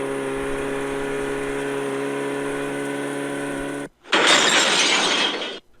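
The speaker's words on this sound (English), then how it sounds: "the Ford Taurus crashes right into Superman at over 80 miles an hour" A speeding Ford Taurus crash effect: a steady engine drone with a whining tone holds for about four seconds, cuts out, and then a loud burst of shattering glass follows and fades out.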